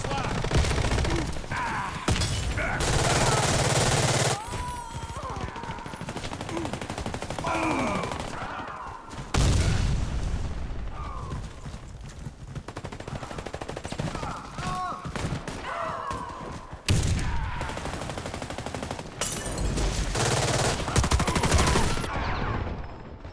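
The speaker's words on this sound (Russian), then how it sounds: "Граната пошла!" Warface gameplay, 2024 edition, with the Grand Power SR9A2 pistol: heavy bursts of gunfire and blasts, including a grenade explosion, come in dense loud stretches broken by short lulls, with voices calling out in between.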